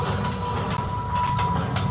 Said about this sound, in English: We make sure to make room for the trams so that they can get an up-close look at some of these iconic sets